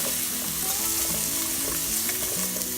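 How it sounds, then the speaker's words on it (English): Onions sautéing in a pan for beetroot soup, a dense continuous close sizzle with occasional light stirring scrapes, steady throughout and without talk. "And I'm gonna let the onions cook for about a minute or so."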